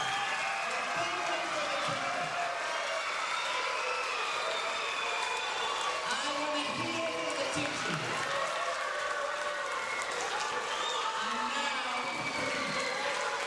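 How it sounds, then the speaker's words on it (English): Students at PS 129 in the Bronx get steady applause from a school audience that fills the room throughout, with a voice speaking briefly over the clapping and a crowd murmur underneath. "Give them a big, big round of applause."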